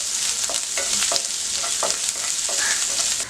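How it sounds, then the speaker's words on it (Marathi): Cumin, garlic and ginger sizzle in hot oil in a pan for an egg curry, a steady bright crackle broken by soft, regular scrapes of stirring, close and alone with no voices. "जिरे, लसूण, आलं परतून घेऊया 1 ते 2 मिनिटं।"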